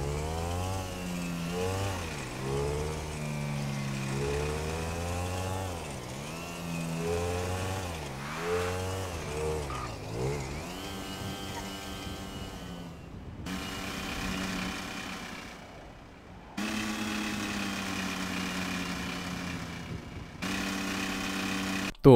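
Motorbike in a GTA video game, front tyre punctured, ridden at full speed: a loud engine drone with repeated rising and falling revs, then sustained high revving in bursts broken by brief gaps.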